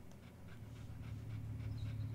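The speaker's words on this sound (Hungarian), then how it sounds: "Hát ott átsétel egy kutya" Dog panting in the video game Casino Island Simulator, quick rhythmic breaths repeating evenly over a low background hum, close and fairly quiet.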